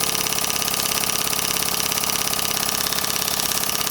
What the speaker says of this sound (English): very nice little governor controlled model steam engine.